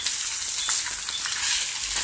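Steady, dense sizzling of potatoes frying in a very hot pan, a constant crackling hiss with faint stirring clicks, fairly loud and close, no talking.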